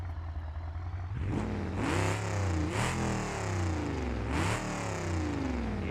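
A race-exhaust car in BeamNG.Drive revs hard several times, each loud, close blip climbing and falling back over a steady rumbling idle, with no talking.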